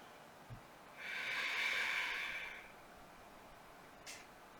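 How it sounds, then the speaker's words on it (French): A single slow, soft breath drawn out for about two seconds during a yoga stretch into child's pose, faint and close, with a tiny sniff before and a short puff after. "Encore 2 respirations."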